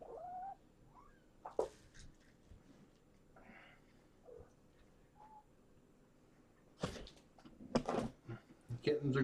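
Kittens back from a vet visit meow in scattered short calls, with a louder burst of mewing and movement near the end, close to the microphone amid household handling noise.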